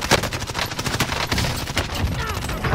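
Rapid bursts of video game gunfire crackle continuously during an online shooter match, dense and loud with overlapping shots.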